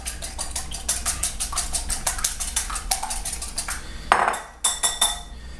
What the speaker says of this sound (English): you're going to want to scramble your eggs by whisking them like that